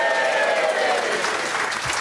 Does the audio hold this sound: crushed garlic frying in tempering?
no